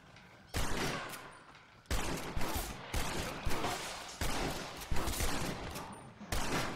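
Heavy shotgun blasts from Red Dead Redemption, a series of loud, booming reports spaced roughly a second apart, each with a short rumbling tail.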